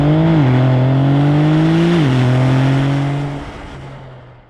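A Porsche 911 Turbo S with sports exhaust pulls hard, its engine note climbing through the gears with two quick upshifts, loud and close before fading as the car moves away, no voices over it.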